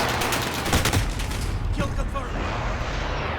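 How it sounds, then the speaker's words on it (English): Precision airstrike in Call of Duty Modern Warfare: a dense, loud barrage of game gunfire and blasts rolls on continuously for a few seconds, with sharper bursts near the start. "Precision airstrike on the way."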